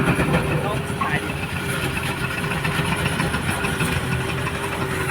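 A tractor engine idles with a steady low chugging hum during a rice harvest in a paddy field, continuous and fairly close, with faint background noise.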